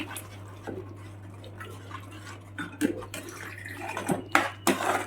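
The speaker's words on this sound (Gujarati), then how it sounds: "થોડું પાણી રેડીશું અને એને મિક્સ કરીશું" Water splashes and trickles into a pan of spiced sev usal curry in short bursts, with a few metallic clinks and a low steady hum beneath.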